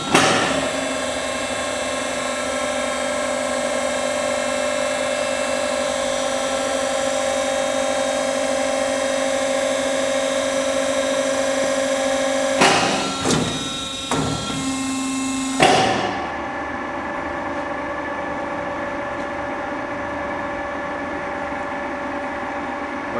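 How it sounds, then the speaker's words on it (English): A Baileigh MB-60-NCE2 industrial mandrel tube bender runs a 90 degree bend with a steady hydraulic hum, then a cluster of clunks and knocks before the machine drops to a quieter idle. "step on the pedal once more to initiate the third bend."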